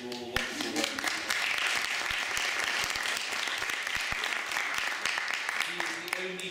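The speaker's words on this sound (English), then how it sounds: "leadership of our dear friend Ibrahim Doğuş, who deserves, in my view, a round of applause for all the wonderful work" An audience at a debate on democratisation in Turkey claps loudly and steadily for several seconds, with voices briefly audible at the start and end.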